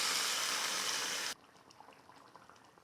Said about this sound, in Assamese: এবাটি পানী দিলোঁ।